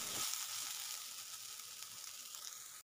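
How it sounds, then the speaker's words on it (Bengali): Potatoes fry with onion in a hot pan, a steady close sizzle that holds evenly for a few seconds without any talking. "আলুগুলোও দিয়ে এই যে আমি ভালো করে ভেজে নিচ্ছি আলুটা"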